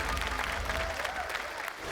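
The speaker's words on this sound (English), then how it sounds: "Give him a round of applause, ladies and gentlemen." Audience applause at a Robot Wars robot combat event, a short burst of clapping and crowd noise heard at moderate distance.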